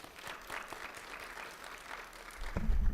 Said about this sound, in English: let's give our family members and friends a round of applause